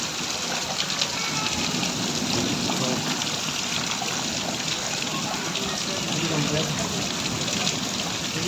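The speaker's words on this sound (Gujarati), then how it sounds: "ચાર વાગ્યા છે પણ વરસાદ રહેવાનું નામ જ નથી રહેતું" Steady, dense monsoon rain pouring down close by on a waterlogged farm field, a continuous broadband wash with water running and splashing, with faint voices underneath.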